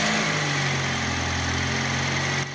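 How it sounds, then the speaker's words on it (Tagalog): A Toyota Vios engine, freshly washed after rat damage, idles with a steady mid-low hum and faint vibration, then drops off sharply near the end, with no talking. "Start ko na itong makina."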